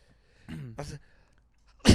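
A sharp, loud sneeze bursts out at the end, just after a couple of short vocal sounds in a quiet indoor room.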